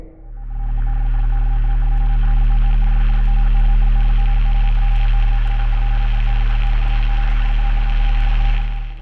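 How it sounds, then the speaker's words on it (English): In the video game Fallout New Vegas, loud, steady radio static and hum run without a break, and a thin repeating tone pulses evenly through it like Morse code. No voices are heard. "a never-ending black void accompanied by the sound of radio static and Morse code"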